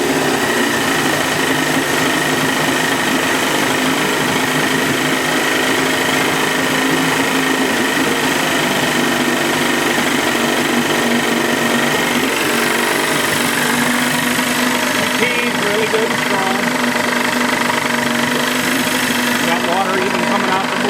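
A 30 hp Johnson outboard motor power head running on both cylinders, a loud, steady, buzzing drone with constant high-pitched mechanical whine and no letup throughout.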